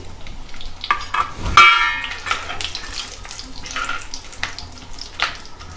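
Cinnamon, cloves and dried red chilli sizzle in hot oil, a close crackling spatter with stirring clinks and a sharp burst as the spices drop in.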